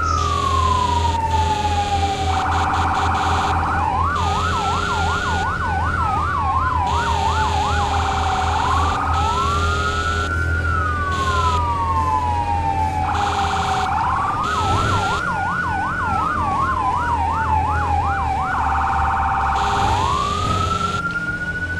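A loud fire truck siren in the video game Firefighting Simulator wails and yelps in repeating cycles over a rumbling engine, close and continuous throughout.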